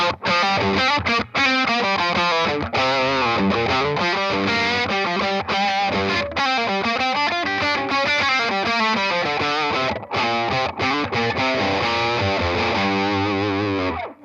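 Electric guitar played through a Centavo overdrive pedal, a continuous, loud, distorted run of chords and riffs with no talking.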